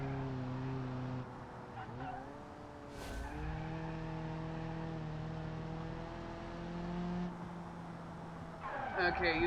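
Racing car braking hard in a video game, engine note dropping with a brief squeal and whoosh, then steady engine drone, with a sharper skidding burst at the end; a voice talks over the car throughout.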